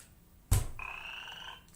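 A croaking frog sound effect played by a NeoBot EDU educational robot program: a single loud burst followed by a sustained ribbit-like tone lasting about a second, alone with no talk.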